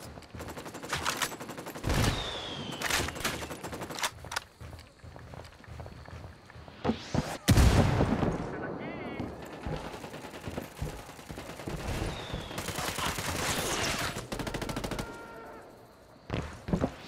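Gunfire in the video game Tom Clancy's Ghost Recon Wildlands near an HQ building: repeated sharp rifle bursts and single shots in clusters, with one heavy close blast midway, interspersed with footsteps and quieter gaps.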